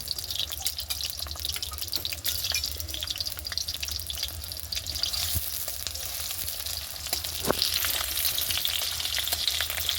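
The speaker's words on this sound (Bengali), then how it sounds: "আগে দিয়ে দিচ্ছি পেঁয়াজটা" Onions sizzle and crackle steadily in hot oil in a wok for egg curry, a dense continuous frying hiss with occasional stirring scrapes and small pops, close and alone without talk.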